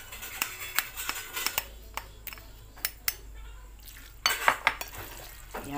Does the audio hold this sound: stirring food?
yes